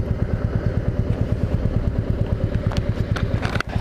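Royal Enfield Meteor 350 single-cylinder motorcycle ridden through city streets, its engine thumping in a steady rapid pulse up close, then easing off as the bike slows and pulls over to the side of the road.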